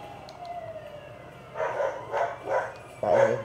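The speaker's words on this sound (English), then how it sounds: "That is a dog barking." A dog in the GTA 5 video game barks three or four times in quick succession at moderate distance, over a low hum with a faint siren-like tone gliding beneath.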